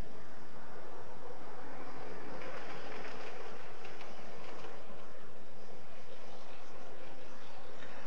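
A British modern-image model railway train runs steadily on a layout, its soft rolling rumble and faint clicking wheels continuous and fairly quiet throughout, with no voices.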